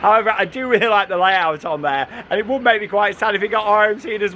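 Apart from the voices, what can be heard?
None of the usual background noises is heard.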